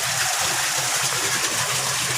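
A koi pond water pump rated at 10,000 liters per hour, running with a steady gushing, splashing flow of water that stays continuous and fairly loud throughout, with a low rhythmic churn underneath.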